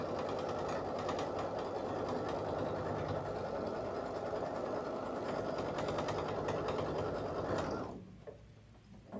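An embroidery machine stitches a folding stitch along a fabric border in its hoop, a steady close mechanical whirring and rapid needle chatter running continuously before cutting off near the end, with no talking.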